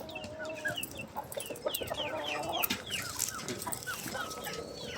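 A Brahma chicken chick peeps repeatedly in short, bright chirps, with other fowl clucking nearby in a busy farmyard background.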